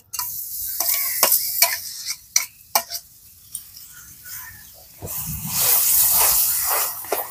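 Mashed boiled green banana tipped into hot oil with asafoetida over a very low flame, giving a soft hiss and several sharp scrapes and stirring taps, then a louder, broader sizzle toward the end.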